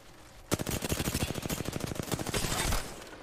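Rapid automatic gunfire in an Apex Legends match bursts out after a brief lull and rattles continuously for over two seconds, loud and close, then cuts off.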